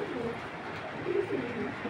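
Giribaz pigeons, a large silver-line female in a loft pair, cooing in low rolling murmurs, several coos overlapping steadily through the short stretch at moderate distance.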